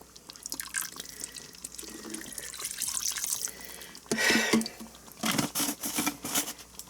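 Water poured into a Ninja Foodi pot while cooking spaghetti, a close splashing pour with dripping that swells in bursts toward the end, no talk.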